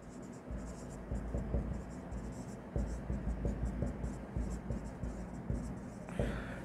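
Figures for an accounting trial balance are written on a board, producing steady scratchy strokes and taps while a teacher lectures over them throughout.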